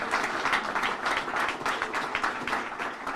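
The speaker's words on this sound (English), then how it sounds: "Let's give them another round of applause and recognition here." A crowd applauding steadily, dense clapping that stays loud and even throughout, with no voices over it.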